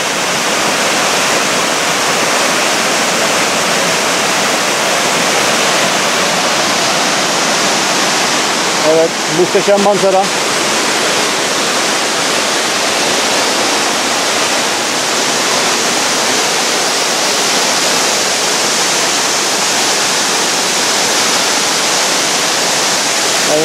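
Barker Falls in Horton Plains National Park, Sri Lanka, roars steadily and loudly, a dense continuous wash of rushing water. Someone speaks briefly near the middle.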